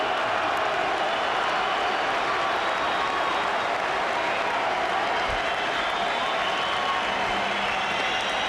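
A women's boxing arena crowd roars and applauds for a retired boxing champion, a dense, steady wall of cheering and clapping that holds at full volume throughout, with no clear individual voices standing out.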